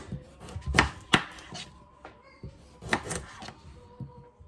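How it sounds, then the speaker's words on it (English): A knife chops carrots on a cutting board in a few irregular, sharp knocks, close and fairly quiet. "The carrots we're going to cut 1/2 inch thick on an angle"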